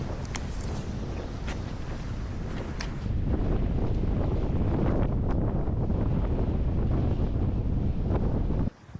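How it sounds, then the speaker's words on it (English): Strong wind gusts across an open lake during a bass fishing tournament, roaring continuously and buffeting the microphone with a dense, steady rush of noise throughout. "I wanted a little bit of wind. I got a lot of it. Really fast."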